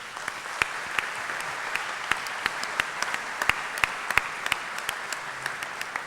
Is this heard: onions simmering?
no